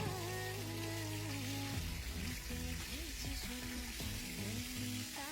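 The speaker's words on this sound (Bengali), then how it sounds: "সেই তেলে পেঁয়াজ কুচি মরিচ কুচি ধনিয়া পাতা কুচি ঢেলে দেব" Chopped onion, chilli and coriander leaves frying in mustard oil for a garlic bharta, a steady soft sizzle running under background music.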